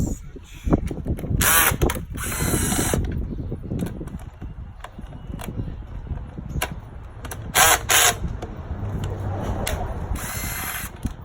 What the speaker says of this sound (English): take off these next 10mm bolts right here so you can uncover this connection that you want to remove